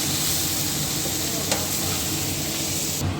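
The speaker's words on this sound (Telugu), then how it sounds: "దీన్ని కూడా వీటితో పాటు కలిపి మనం ఫ్రై చేసుకుందాం" Tomatoes fry with salt and a biryani masala leaf in a pan, a loud, dense, continuous sizzle with a faint stirring scrape midway.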